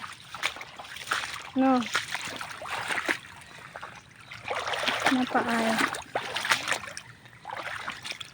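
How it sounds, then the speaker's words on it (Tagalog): Floodwater pouring out of a flooded rice field, a continuous close trickling, splashing flow heard under someone talking throughout. "Na kaya para magawas ang tubig."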